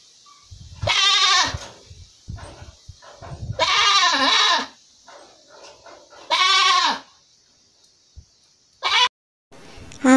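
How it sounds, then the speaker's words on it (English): A goat bleats loudly and close by, several long quavering calls separated by pauses, followed by two shorter bleats, with faint rustling in between. "G-O-A-T, goat."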